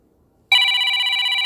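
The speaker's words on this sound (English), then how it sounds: "Let's react to the ringtones, I guess." A mobile phone ringtone starts abruptly after a brief silence and plays loudly and steadily as a bright electronic chiming tone, sustained without pauses and with no voices over it.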